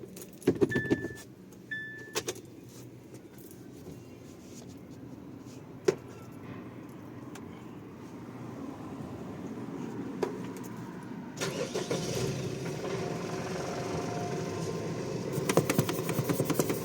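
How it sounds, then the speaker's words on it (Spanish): Keys jangle twice in the ignition of a Foton Miler 2.6 truck, followed by a quiet pause, then the engine cranks and settles into a steady mid-pitched idle, with no talking. "Lo voy a encender."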